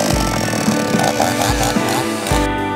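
A Foresta gasoline chainsaw engine runs loud and close, its rough buzzing drone rising and falling with throttle blips in a few uneven surges.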